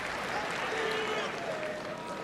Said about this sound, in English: there another shot of this huge crowd at the Saitama Super Arena